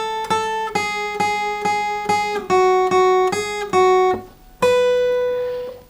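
Acoustic guitar plucking the second line of a simple beginner melody, a steady run of single clean notes with a short pause before a final sustained ringing note, close and alone.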